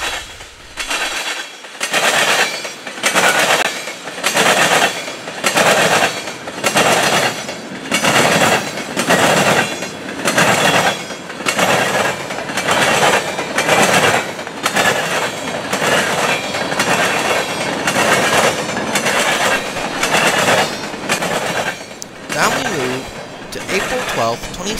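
Norfolk Southern GE C39-8W freight locomotives roll past with a heavy, regular clickety-clack of wheels over rail joints, loud and close throughout, with a faint wheel squeal along the way.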